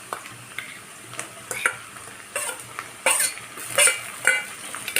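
Ginger, garlic and coriander paste sautéed with browned onion for a spicy vegetable curry, a soft continuous sizzle punctuated by repeated close spatula scrapes and clinks against the pan.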